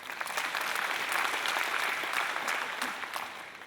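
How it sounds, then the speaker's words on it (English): An audience at a health ministers' plenary panel claps in a steady, dense round of applause that swells and then fades, moderately loud. "let's give them a big round of applause for this"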